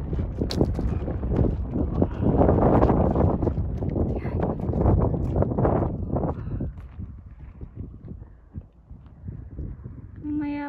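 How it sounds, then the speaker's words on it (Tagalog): Strong wind buffets the microphone on an open mountain trail in Jandia National Park, Fuerteventura, a loud rumbling roar that eases toward the end, with a voice speaking over it. "Ang lakas ng hangin."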